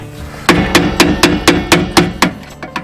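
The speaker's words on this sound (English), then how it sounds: "So I just kind of chisel away at it. Kind of break it up inside there." A hammer drives a chisel against a nylon trailer suspension bushing, breaking it apart: about nine sharp, evenly spaced metallic strikes, loud and close, in a quick steady rhythm.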